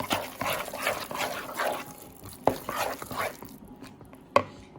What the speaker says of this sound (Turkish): Bir tanesini çıkarıyorum. Ve hızlıca karıştırıyorum.